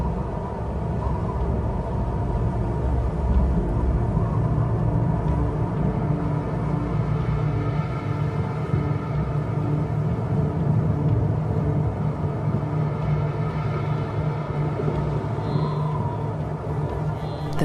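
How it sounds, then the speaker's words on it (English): A low, continuous rumble of an approaching storm on the African plains where wildebeest graze, a steady dull roar with wind noise, loud and unbroken throughout, with no speech. "A storm approaches."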